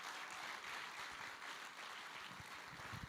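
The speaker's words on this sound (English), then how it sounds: "Let's give Farideh another round of applause" Steady, dense applause from a studio audience at a radio show's anniversary celebration in Saskatoon, a continuous wash of clapping that holds at an even level throughout with no voices rising above it.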